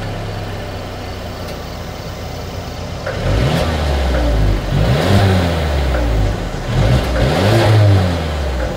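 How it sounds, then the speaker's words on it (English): A 2022 Mercedes-Benz GLB 250 with dual exhaust idles steadily, then revs up in three loud surges close by, each climbing and falling back toward idle. "As always, here is that exhaust clip."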